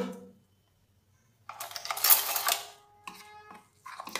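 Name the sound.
mixing gram flour batter with salt, turmeric and spices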